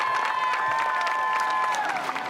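Large arena crowd at the American Ninja Warrior Seattle/Tacoma finals applauding and cheering steadily on its feet for a competitor, a dense continuous roar with faint tonal music running through it.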